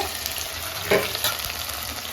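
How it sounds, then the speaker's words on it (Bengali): Spice paste for aloo dum fries with a steady crackling hiss, with two brief stirring scrapes in the pan, close and with no voices. "আমার মশলাটা কষিয়ে ফেলছি"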